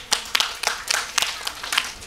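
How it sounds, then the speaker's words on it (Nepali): Scattered hands clap in short uneven bursts at a Nepali community event honouring donors, a small group applauding near and brief, with a few sharp peaks over roughly two seconds. "जोरदार ताली"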